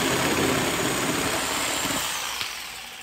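Car engine idles loudly at close range with a steady mechanical drone, which eases off and thins toward the end.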